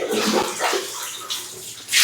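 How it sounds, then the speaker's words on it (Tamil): Water is poured and splashed over a dog being bathed, in short uneven gushes that end in a louder splash, close by with no talk. "தண்ணி விளவுறாங்க"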